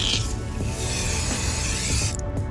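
A can of car interior foam cleaner being shaken, giving a quick run of rattling, rubbing strokes up close, with a short hiss-like burst toward the end.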